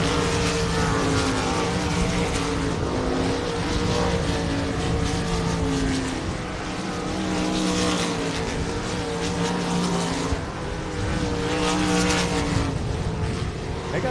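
Sprint car engines at a South Texas race ranch rev and roar continuously, loud and close, with overlapping rising and falling engine pitches throughout.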